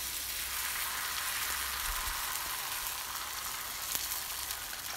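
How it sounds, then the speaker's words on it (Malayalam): Dosa batter spooned onto an oiled non-stick pan gives a steady, even sizzle that holds for the whole stretch, close and moderately loud, with a faint low rumble underneath. "അതിലേക്ക് നമുക്ക് നമ്മുടെ ദോശ മാവ് കുറച്ച് കുറച്ചായിട്ട് ഓരോ സ്പൂണിൻ്റെ കണക്കിനായിട്ട് ഒഴിച്ചു കൊടുക്കാം"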